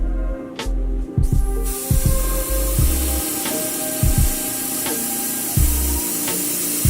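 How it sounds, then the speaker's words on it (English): An airbrush sprays paint through a stencil panel onto a shoe, giving a steady hiss from about 12 inches away. Sharp clicks and taps of the tool and panel punctuate the spray, which drops out briefly and resumes. "I'm going to just go ahead and spray through the panel."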